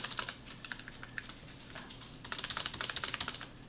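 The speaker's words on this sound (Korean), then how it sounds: "엔드를 눌러서 엔터, 컨트롤 V" Keys clicking on a computer keyboard as End, Enter and Ctrl+V are pressed, close and fairly quiet, with scattered single taps building into a quick rapid run of strokes near the end.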